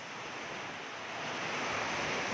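Strong typhoon wind in Batangas roars as a broad, constant rush with no breaks, growing slightly louder toward the end, with no voices.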